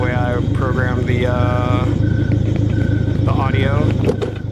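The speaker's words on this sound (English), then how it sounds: "you can hear when I move the car, the engine kind of cranks up whenever the car is moved" A car engine in an Unreal Engine game drones with a steady low hum, its pitch rising and falling as the car moves. Someone talks over it throughout.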